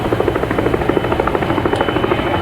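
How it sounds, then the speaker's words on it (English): A MiG-29 jet aircraft rolls out at an air show, giving a loud, steady whining roar with a fast pulsing texture that holds throughout. "as the MiG rolls out"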